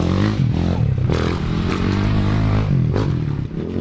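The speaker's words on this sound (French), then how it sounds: "Le seul moment où j'appuie à fond sur l'accélérateur et où on l'entend" Motocross dirt bike on a track, its engine held at full throttle in a loud, close, continuous rasping roar that shifts pitch slightly as the revs rise and fall.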